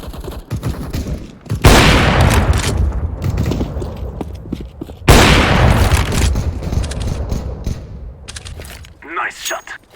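Gunfire in a CS:GO match on the Mirage map: two loud bursts of rapid shots with booming reports, broken by clicks and gaps, and brief talk near the end.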